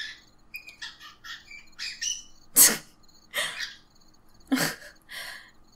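A pet bird chirps and tweets indoors, a rapid run of loud, close, bright calls and squawks with brief pauses between bursts.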